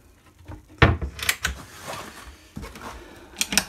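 A few wooden knocks and sliding thuds as a soft-close kitchen drawer on a Beneteau Oceanis 51.1 sailboat is pushed shut, ending softly, followed by a couple of quieter clicks and taps.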